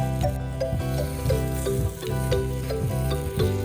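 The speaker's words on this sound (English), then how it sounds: "When the onions are browned, add in your mince." Plant-based Beyond Mince hitting a hot pan of browned onions for vegetarian nachos, a steady loud sizzle and fry with regular stirring scrapes, close and continuous with no talking.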